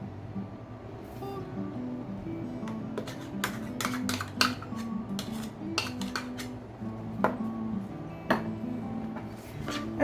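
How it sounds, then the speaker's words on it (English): Utensil repeatedly scraping and clinking against a bowl while freeze-dried lunch ingredients are stirred together, a steady run of close, sharp metallic taps over a low background hum. "just going to mix everything all up together."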